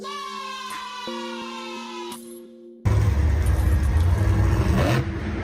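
After a short musical jingle, the Iron Man monster truck's engine bursts in with a loud, close, roaring rev that holds for a couple of seconds in an arena setting.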